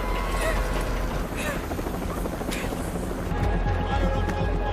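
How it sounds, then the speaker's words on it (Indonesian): Steady, dense rotor roar of a helicopter filling the whole stretch, loud and continuous with a faint voice underneath. "sebuah helikopter pun dikirim untuk membidik Joy"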